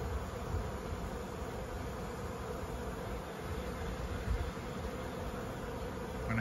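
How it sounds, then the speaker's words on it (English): A honeybee swarm at a trap-out, heard as a dense, steady, droning hum with a broad hiss that holds level throughout, fairly quiet and with no voices. "It looks like a swarm"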